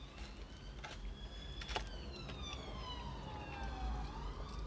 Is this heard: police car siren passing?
yes